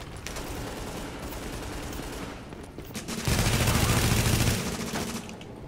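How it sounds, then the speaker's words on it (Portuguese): Automatic gunfire in the video game The Division, a steady run of shots that swells into a louder sustained burst partway through, with no talk. "tem gente me atirando"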